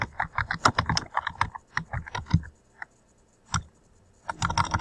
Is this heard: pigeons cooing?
no